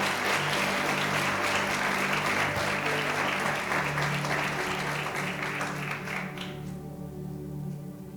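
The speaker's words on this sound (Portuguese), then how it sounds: "Você pode aplaudir o Senhor aí bem forte" A church congregation applauds loudly, dense clapping filling the room for several seconds before thinning out near the end, with a low instrumental hum underneath.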